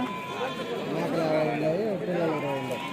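Goats bleat at a busy outdoor goat and sheep market in Kadiri, wavering cries rising and falling close by over a constant murmur of crowd chatter and people talking.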